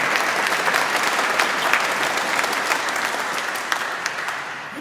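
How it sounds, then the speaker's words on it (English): Warm, continuous applause from the audience at a choir concert in Malmesbury Abbey, a dense, even patter of many hands holding steady for several seconds. "So I think a big clap."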